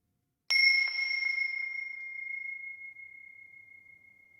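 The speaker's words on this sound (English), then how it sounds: "The single bell strike over here." A single bell strike used as a sound-design sample: one sharp metallic hit followed by a clear, ringing tone that slowly fades over several seconds, heard alone with no talking.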